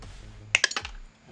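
Cutters snip wires off a part of a CRT karaoke machine during a teardown. A quick cluster of four or five sharp, close clicks comes in under half a second, with near silence before and after.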